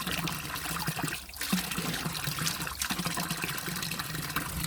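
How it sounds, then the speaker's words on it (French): A small waterfall trickles and splashes steadily along the Camino Francés, a continuous close wash of running water with no voices. "il y a une petite chute d'eau"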